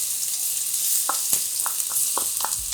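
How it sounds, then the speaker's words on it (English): Garlic paste hitting hot oil for Trini curry chicken gives a soft, continuous sizzle, broken by several sharp taps and scrapes of a spoon stirring in the pan. "All right, at this time I wanna add my garlic paste"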